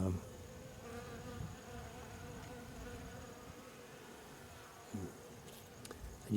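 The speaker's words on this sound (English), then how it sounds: "There's just a lot of bees cleaning themselves." Honey bees at an open beehive during an inspection, a steady close buzzing hum from many insects, with a couple of brief handling knocks and no talk.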